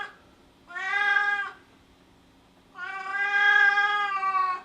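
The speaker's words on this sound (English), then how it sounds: "If you have a noisy cat," A noisy, just-woken cat gives two drawn-out, loud meows close by in a quiet kitchen, the second longer and more insistent than the first.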